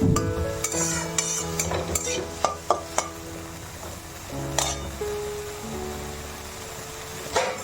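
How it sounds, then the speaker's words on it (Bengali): Vegetables frying in ghee are stirred in a pan, with a soft steady sizzle under a series of sharp metal spoon clinks and scrapes, close up and without speech. "এবার এভাবে নাড়িয়ে নেবো।"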